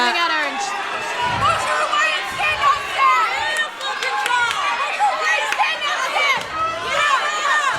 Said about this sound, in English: I can hear her corners And, screaming at her.